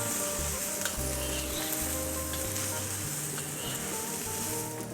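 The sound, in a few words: salted fish added to hot pan, sizzling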